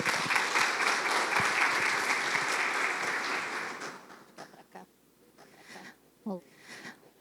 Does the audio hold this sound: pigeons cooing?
no